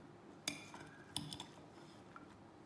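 Metal utensils clink lightly against a bowl while a bean salad with jalapeno dressing is mixed, two sharper taps followed by softer scraping clinks, close and quiet.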